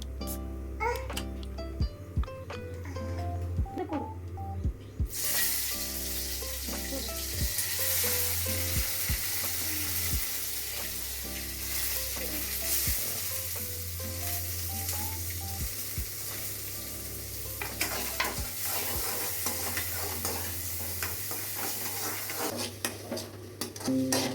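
Mustard seeds spluttering and popping in hot oil in a kadai in a home kitchen, a steady close sizzle with rapid crackles, while a child babbles and a voice talks in the background.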